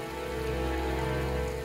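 Rain falls steadily in a soft, continuous hiss over a low background hum, with no voices.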